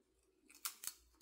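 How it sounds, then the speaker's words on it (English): Scissors snip through a hard, thick flower stem for a bridal bouquet, giving two sharp close cuts in quick succession against a quiet background. "The stem is very hard to cut,"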